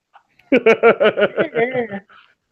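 A human voice imitates a dog barking during a tabletop Dungeons and Dragons game, giving about seven quick, evenly spaced woofs, close and clear, with nothing else around them.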